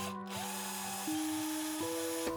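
A power tool drives out the bolts low in the center console of a BMW E92 M3, a steady close whirr that holds one pitch, then steps up twice as the load changes.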